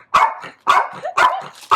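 Xena the dog barks for treats, four sharp, close barks at an even pace, each with a short whiny tail, and no talking.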